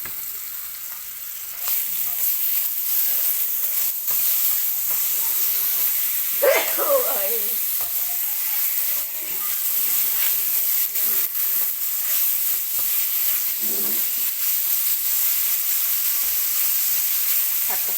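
Holy basil beef with red curry paste and pickled bamboo shoots stir-fries in a pan with a steady, close sizzling hiss throughout, broken by a few brief scraping stirs.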